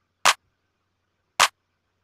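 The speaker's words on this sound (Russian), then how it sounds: "Потом идет клэп, вот такой вот," Single trap beat clap sample in FL Studio triggered twice, two sharp, bright, short hits about a second apart with silence between, clean and unaccompanied.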